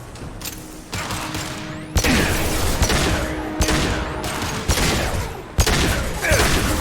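Repeated bursts of gunfire in Mass Effect 2, sharp impacts roughly every second over a dense bed of combat noise and mechanical clatter, loud and close with no talking.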